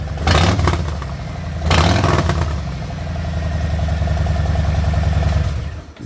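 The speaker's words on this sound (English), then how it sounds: "So the idle's not as cracky as the Grafeo, but I think when you whack the throttle, it is." Harley-Davidson Ultra fitted with a Cobra Turn Out 2-into-1 exhaust, loud and close, idling with a deep lumpy rumble broken by two sharp throttle blips before settling into a steady idle.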